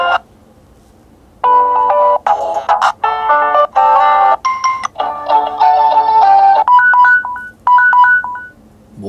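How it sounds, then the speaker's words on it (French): A NO.1 S6i smartphone plays its ringtone through its speaker, a loud, bright electronic melody of short chiming notes in quick phrases, ending with repeated two-tone beeps, with no talking. "sonnerie téléphone."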